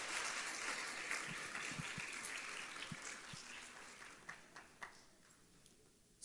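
A church congregation applauds in a dense wash of clapping that thins out toward the end, leaving a few scattered claps.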